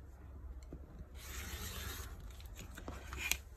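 A rotary cutter or blade trimming fabric tails off a pieced cotton quilt block, a soft close rubbing slice lasting about a second, then small scrapes and taps, quiet with no talking.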